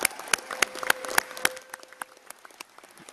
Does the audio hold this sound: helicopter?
no